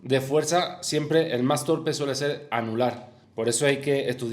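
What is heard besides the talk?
None of the usual background noises is heard.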